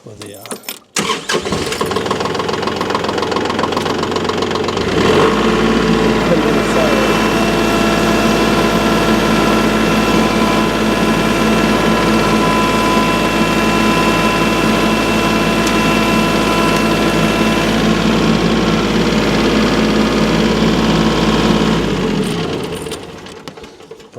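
A tractor engine starts up after a brief clatter, then settles into a loud, steady diesel drone close by as it is pulled forward, holding constant for about twenty seconds before cutting off.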